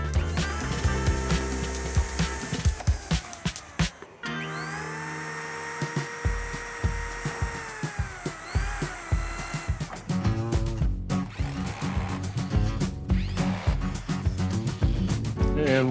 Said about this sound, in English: I'm going to be drilling 3 more holes in the back